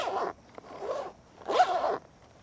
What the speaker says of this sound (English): I can already feel with a little bit of lubricant that the zipper opens better